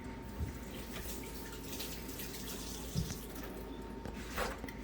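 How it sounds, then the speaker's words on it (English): Tap water runs steadily into a sink while hands are washed under it, a continuous close splashing rush with a few small splats and drips. "let me wash my hands real quick"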